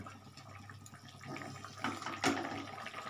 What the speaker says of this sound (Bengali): একটু ফুটে যাক।